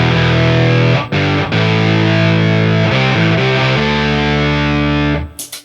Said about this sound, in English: you can do guitar and bass sounds at the same time.